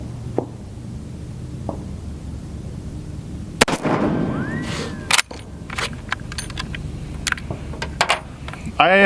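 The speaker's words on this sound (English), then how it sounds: "Let's do some shooting." Several sharp rifle shots from a Steyr M95/34 firing Hornady 8x56R rounds crack out at irregular intervals outdoors, with bolt handling and faint background noise between them.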